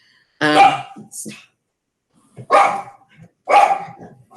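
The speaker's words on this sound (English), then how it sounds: "so we could hear the dog bark" A dog barks three times nearby, a sharp double bark followed by two single barks with short pauses between.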